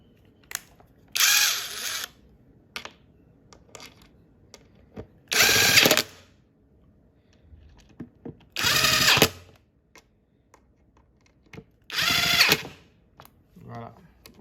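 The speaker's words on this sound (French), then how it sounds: "Donc vous y allez et vous vissez correctement la totalité." Power screwdriver driving screws into a panel of a Roland FP-30X digital piano stand, in four separate loud whirring bursts of about a second each, with small knocks and handling noises between them.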